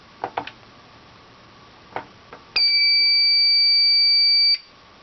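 Fire alarm panel sounding a zone 1 alarm: a few faint clicks, then a single loud, steady electronic buzzer tone that holds for about two seconds and cuts off.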